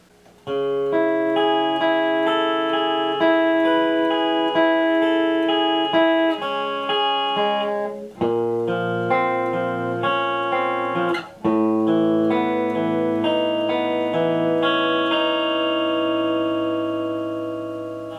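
Electric guitar plays a song's riff slowly, a steady sequence of ringing chords and note changes running uninterrupted and fairly loud, ending on a sustained fading chord, with no voices.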